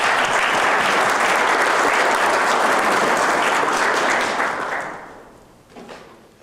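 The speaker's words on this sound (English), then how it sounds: "A round of applause for Bob and the band captains, please." Loud, sustained applause from a crowd at an amateur radio club awards event fills the room, then fades out over the last couple of seconds with a few scattered claps.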